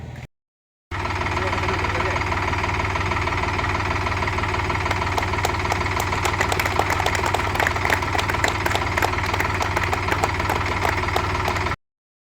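A tractor engine idles steadily at a paddy field committee gathering in Karoor panchayat. A loud, even, throbbing drone continues without a break after a brief silent gap at the start, then cuts off abruptly.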